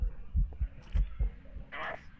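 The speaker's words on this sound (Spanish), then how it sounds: "Escucho latidos." A slow heartbeat pulses in the horror game Phasmophobia, a few low thumps in steady rhythm, followed by a brief brighter sound near the end.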